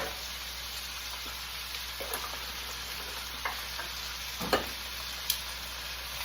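Dijon pork chops with a little dried thyme being mixed around a frying pan, with a low steady sizzle under a few soft scrapes and clicks of the utensil, one sharper knock near the end, fairly quiet and without talk.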